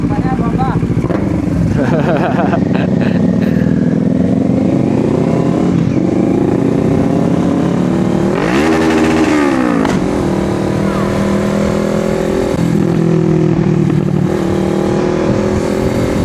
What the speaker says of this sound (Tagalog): Kaso pangit yung tunog ng motor natin.